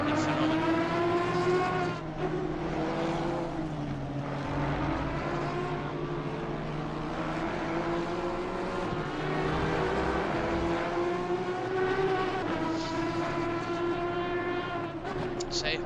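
Aston Martin GT3 race car engine in a racing sim game, a continuous loud harmonic drone that rises and falls through gear changes, with talk over it.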